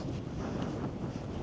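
Steady wind buffeting the microphone high on Skiddaw fell in the Lake District, a continuous low rumbling roar with no breaks and no voices.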